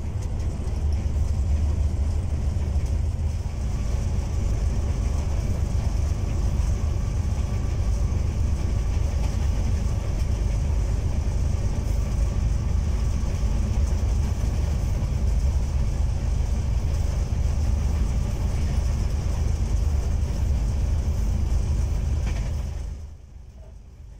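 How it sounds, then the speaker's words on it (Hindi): Sir Syed Express passenger train running through a long tunnel between Rawalpindi and Wazirabad, a steady, loud enclosed rumble of wheels and carriage noise that holds throughout, then suddenly drops away near the end as the train exits. "एहसास होता है कि ट्रेन वाकई किसी अंधेरी जगह से गुजरी है।"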